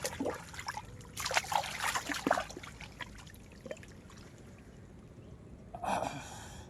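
Small amounts of river water trickle and dribble into a crab burrow being dug out by hand, with soft wet splashes and scraping in bursts near the start and again at the end.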